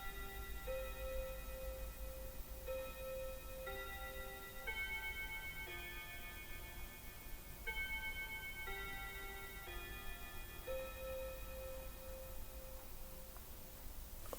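A chiming clock plays a slow, stepped sequence of clear bell tones in repeated phrases, faint and steady over a low background hum, with no talking.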